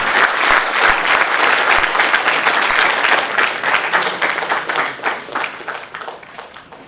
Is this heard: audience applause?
yes